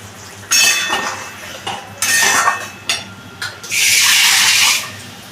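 Cashew paste scraped from a bowl into cooked masala in a pan, loud close metal spoon clanks and scrapes in several bursts, ending with a sustained sizzle-like hiss.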